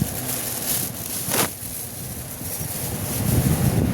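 An Omni wall-mounted exhaust fan blows air in a house, a steady broad whoosh with gusty swells, close to the microphone, no talk.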